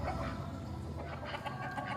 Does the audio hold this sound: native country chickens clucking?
yes